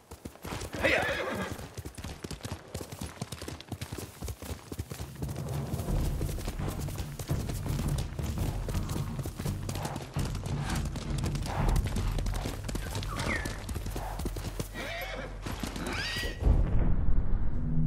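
A horse gallops across open ground in Ghost of Tsushima, hooves drumming in a steady, close rhythm while the animal neighs and snorts several times.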